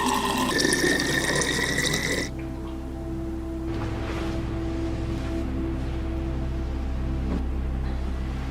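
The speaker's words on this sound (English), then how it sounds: "I need to go get water." Water runs steadily from a household tap, a broadband rush lasting a couple of seconds before it stops, leaving a low hum and faint room noise.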